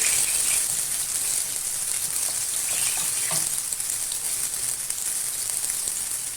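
Eggplants fry in a pan with a bright continuous sizzle and crackle, close and fairly loud, with a few soft stirring bumps and no talk.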